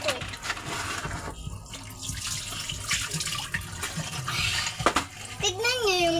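Tap water runs steadily into a sink while dishes are washed at home, with a person talking throughout over the running water.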